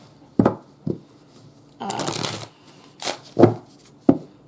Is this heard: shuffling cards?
yes